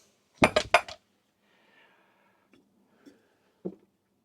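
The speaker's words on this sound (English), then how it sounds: "Stackable pans." Metal stackable pans with protectors between them knock and clink together in a quick cluster of bright hits, followed by a few faint scattered clanks, close by in a quiet room.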